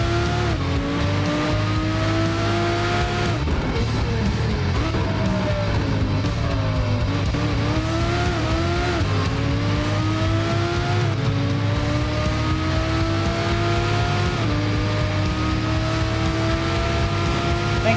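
Race car engine in the video game Need for Speed Shift 2 holds a loud, continuous drone from start to finish, its pitch rising and falling through repeated gear changes as the car accelerates, with tire noise underneath and no voices.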